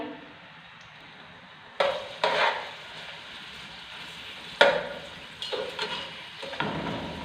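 Onions and black cardamom fry in a pot, giving a low steady sizzle. A few louder bursts of stirring and scraping cut in at intervals, with no voices.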